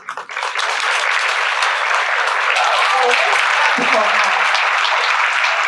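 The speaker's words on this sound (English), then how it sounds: "I want her to come forward so that we give her a clap." Audience clapping at a girls' high school event builds quickly into steady, loud, dense applause that continues for several seconds, with some faint voices murmuring beneath it.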